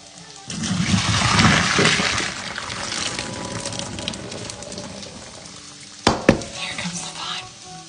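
Pasta water stirred into sauce in a pan for spaghetti, a steady wet swirling and sizzling that runs for several seconds, then a couple of sharp utensil knocks near the end.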